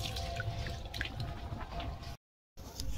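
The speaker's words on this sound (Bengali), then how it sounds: "দেখুন চালটা পরিষ্কার করে এই জল দিয়েছি, ধুয়ে নেব।" Rice being rinsed in water in a home kitchen, with steady wet sloshing and dripping close by that stops briefly and then resumes, with no talking.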